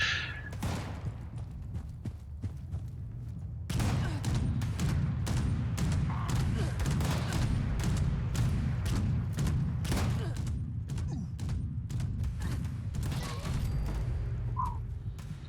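A Gatling gun fires in Fallout 76 as rapid, repeated gunshot bursts, loud and close, punctuated by mechanical clanks and thuds of in-game combat.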